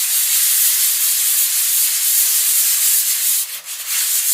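Sandpaper rubbed in steady circular motions over a car bonnet during a restoration, producing a continuous loud, close abrasive hiss with no pauses.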